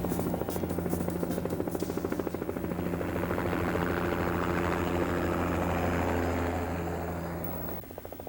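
A helicopter flies over the Ixchamzix River Valley, its rotor producing a steady, loud, close, rapidly pulsing thump over a droning engine hum that holds for the whole stretch, with no talk.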